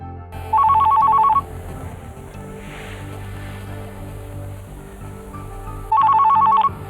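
A landline-style telephone bell rings in two loud bursts, one at the start and another near the end, over a low background murmur of music in a Hindi TV drama scene.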